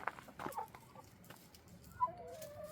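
A Denizli rooster gives a few soft, scattered clucks nearby in a garden, with quiet rustling in between and a brief sharper call near the end.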